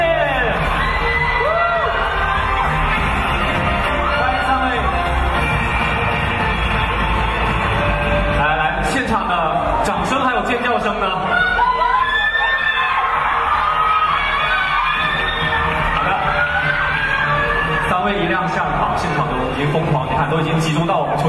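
A loud crowd cheers, screams and claps at a film press launch as the three lead actors are welcomed on stage, with shrill excited shouts and a steady roar throughout.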